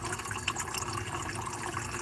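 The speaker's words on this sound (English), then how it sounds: "the water you hear in the background" Water contaminated with styrene runs steadily in the background, a faint, even hiss and gurgle of flowing liquid with no voices.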